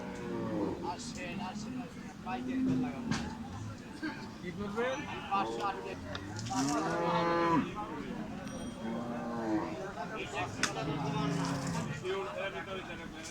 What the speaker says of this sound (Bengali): বিশাল সাইজের একটি অস্টাল গরু, ওর হাইটটাই বিশাল